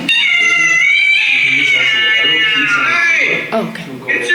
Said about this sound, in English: Oops, the screaming cat.